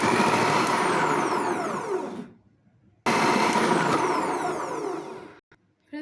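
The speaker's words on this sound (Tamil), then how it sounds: "பீட்ரூட்டை எடுத்து மிக்சியில் இதுக்குள்ளே இப்படி போட்டு இதை வச்சு நல்லா அழுத்தி பிடிச்சிக்கோங்க" Kitchen mixer grinder chopping beetroot in a vegetable-cutter attachment, a loud steady motor whine that winds down, then a second run starting abruptly and cutting off, close and alone.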